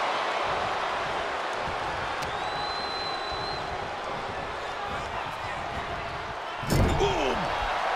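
A single loud wrestling stomp slams down on an opponent's arm during a Roman Reigns and Randy Orton versus Team Brock Lesnar match, a sharp impact near the end over steady crowd roar and commentary.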